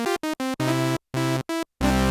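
Arturia PolyBrute synthesizer on its default patch plays short staccato notes followed by longer sustained tones, separated by clean silences, loud and close with no talking.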